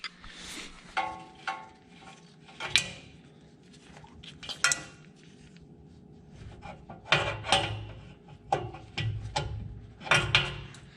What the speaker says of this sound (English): It's 13/16, and I don't have that, so I'm just gonna use a crescent wrench.